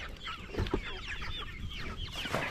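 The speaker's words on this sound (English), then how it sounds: "gotta feed the Rhode Island red chicks" Rhode Island Red chicks cluck and chirp in a busy, overlapping chorus close by on a snowy Tennessee homestead, the calls steady throughout with a few louder bursts.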